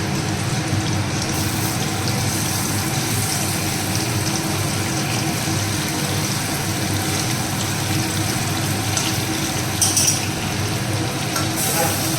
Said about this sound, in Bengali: এর মধ্যে মাছ ভাজবো মাছে লবণ হলুদ কিন্তু মাখিয়ে রেখে দিয়েছি